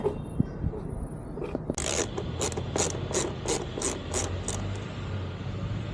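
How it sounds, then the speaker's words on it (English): A ratchet backing a screw out of a passenger armrest on a 2024 Can-Am Spyder RT Limited, a few knocks and then an even run of about nine quick clicking strokes, close and clear. "Take this screw out again."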